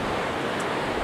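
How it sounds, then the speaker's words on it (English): The River Ericht in Blairgowrie flowing in autumn, a steady broadband rush of moving water, loud and continuous like close surf, with no voices. "This is the River Erict."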